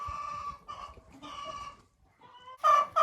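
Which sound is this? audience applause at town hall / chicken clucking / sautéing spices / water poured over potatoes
chicken clucking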